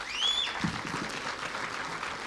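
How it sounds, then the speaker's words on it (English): Clapping from a gathered audience at an outdoor public event in Nakuru, moderate and continuous, with a whistle-like tone early on and some murmuring voices beneath. "Give them a clap,"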